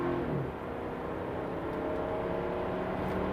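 Engine of a 2015 BMW 6 Series, heard from inside while driving with the paddle shifters in use, giving a steady, fairly faint drone that rises slightly in pitch.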